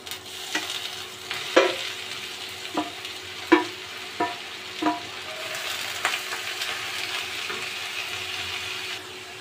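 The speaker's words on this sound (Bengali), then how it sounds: "এটার মধ্যে আমি এখন শাকটা ঢেলে দিয়ে দেবো।" Grass pea greens frying in oil in a pan, a gentle continuous sizzle punctuated by a series of distinct scraping stirs and clinks of the spoon against the pan.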